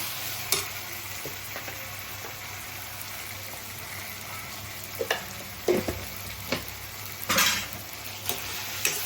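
Tomato curry with chili powder sizzling and frying in a pan at home, with intermittent stirring scrapes and clinks of a spoon against the pot over a steady low sizzle, no talking.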